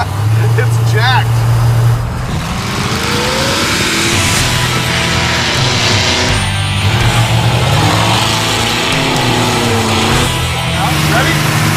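Boosted 1940 Ford running down the road, its engine note rising and falling with loud shifting harmonic sweeps and a rough, uneven idle-like lope, heard close from inside the car with occasional voices.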